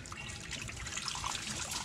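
Coolant trickles and dribbles steadily out of an International S1654 truck's 6.9 diesel engine block, a faint, close, continuous splashing with no talking.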